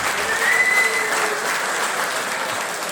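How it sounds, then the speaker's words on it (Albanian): Audience applause at the opening of a Dukagjini folk-culture evening in London, a dense, steady clapping from a crowd that holds at an even level for about three seconds with no voices over it. "Një duartrokitje për sofrën e Dukagjinit dhe për identitetin tonë kombëtar."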